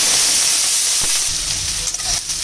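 Potatoes and spiny gourd (kakrol) frying in a pan, a loud, dense, continuous hiss of sizzling oil that holds steady throughout, with no talking.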